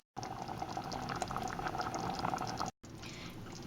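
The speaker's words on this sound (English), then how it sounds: "on the low heat I will let it simmer for a while" Chickpea curry in coconut milk simmering on low heat, a close, continuous bubbling that breaks off for a moment near the end, then resumes more softly.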